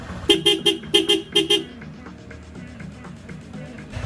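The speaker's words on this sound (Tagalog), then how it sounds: "This type na horn. Single horn setup." A Moto8 single-horn setup on a Honda ADV motorcycle beeps in a quick rhythmic pattern of about eight short honks in pairs, loud and close, then fades to quiet road noise.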